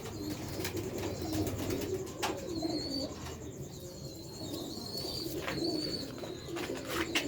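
Sialkoti Ferozpuri pigeons coo repeatedly in a low, steady murmur, with faint chirps above and a gentle outdoor background, no speech.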